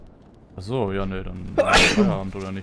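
A person sneezes once in a sharp, loud burst in the middle of casual German conversation between gamers on a multiplayer stream, with talking before and after.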